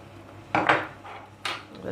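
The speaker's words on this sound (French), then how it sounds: "On va bien mélanger." A utensil scraping and clinking against a pan while chicken sauce with onions and raisins is stirred, two distinct bursts of metallic scraping over a quiet background, no talk.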